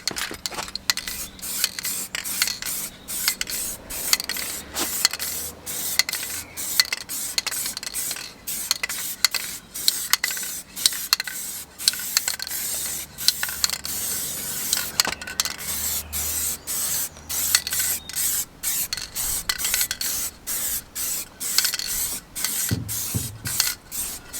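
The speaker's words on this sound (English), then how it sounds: "I'm just going to go in, spray it." Repeated short hissing bursts of a spray bottle spraying cleaner on a Renault Megane RS intercooler, quick and rhythmic, close up, with faint scraping in between.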